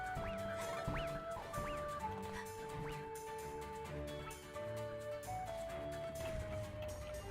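Chickens cluck repeatedly in the A Hat in Time video game, the short clucks scattered over steady, loud in-game music that plays throughout.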